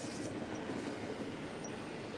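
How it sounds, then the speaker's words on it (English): A long freight train rolls past near Crofton, Kentucky, a steady, unbroken rumble and clatter of wheels on rails with faint squeals, no voices. "It's a pretty long train."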